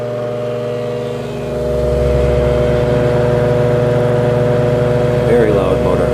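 An antique GE Vortalex electric fan runs on high with a loud, steady motor hum and strong harmonic drone that swells after a second or two, while a person talks over it.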